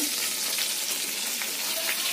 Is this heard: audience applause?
no